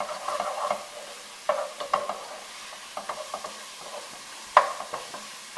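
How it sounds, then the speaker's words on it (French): Okra and shrimp stew ingredients sautéing in a pan with green chili, a soft steady sizzle broken by repeated clinks and scrapes of a spoon stirring, close and fairly quiet, with no talking. "je laisse 3-4 minutes pour faire revenir là"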